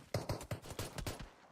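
Pistols fire in a PUBG Mobile esports match: six or seven quick, faint cracks follow in an uneven rapid burst lasting just over a second.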